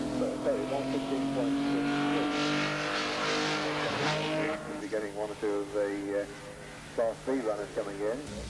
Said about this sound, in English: George Bethel in a Morgan Plus 8 and the Datsun 240Z Samurai of David Jarman enjoyed one of the closest tussles of the day